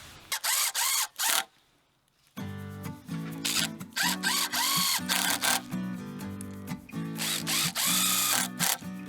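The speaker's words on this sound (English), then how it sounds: "I also recommend using an impact driver over a drill anytime" A power driver whirs and chatters in repeated bursts, driving screws with a rapid hammering rattle, loud and close, with one brief pause early on.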